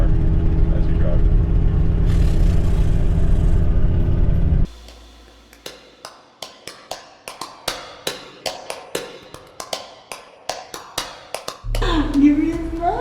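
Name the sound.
Ford Excursion driving with loud leaking exhaust manifold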